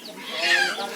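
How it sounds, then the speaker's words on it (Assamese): Chinese-breed chickens at a poultry sale, one brief close cluck rising and falling in a single short call. "চাওক, ইয়াতে থৈ দিয়া আছে চীনা মুৰ্গী, কেনেদৰে থৈছে।"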